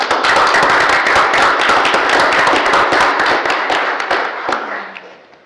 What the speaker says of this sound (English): I would offer a round of applause for you guys